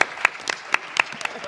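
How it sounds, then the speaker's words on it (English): Sparse, scattered clapping from a dinner audience at a wellness and sports roundtable event, a few distinct claps from nearby hands, moderately faint, with murmuring voices beneath. "Let's give him a round of applause."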